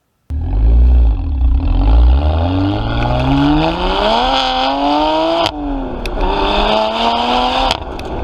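A BMW 1 Series M engine revs loudly and close, rising and falling in repeated sweeps with a throaty exhaust tone and brief pauses between pulls.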